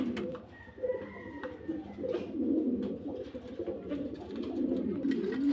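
A pair of Spanish pouter pigeons coo close by with deep, throaty, bubbling calls repeating over several seconds, accompanied by a faint brief chirp.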